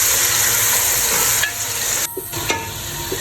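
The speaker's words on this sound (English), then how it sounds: "Add the tomato pieces and mix it." Tomato pieces stirred into a frying masala, loud continuous sizzling with a few sharp scrapes and knocks of the spoon against the pan.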